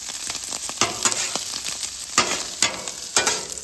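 Fried rice with soy sauce sizzling on a hibachi griddle, a steady loud crackle broken by sharp scraping stirs of a spatula at irregular intervals.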